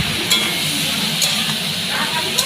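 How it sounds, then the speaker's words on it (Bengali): Steamed potatoes fry with papaya in a pan, giving a steady close sizzle broken by a few light clinks of stirring. "আলুগুলো দিয়ে দিলাম, এটাকে একটু ভাজা ভাজা করে নিই আর কি।"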